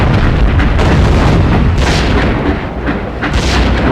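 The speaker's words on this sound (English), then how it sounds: "When I'm hitting this guy with, you know, mortar after mortar, howitzer shell after howitzer shell" Mortar and howitzer shells explode one after another in the PS2 game Swashbucklers, forming a loud, dense, continuous rumble of overlapping booms.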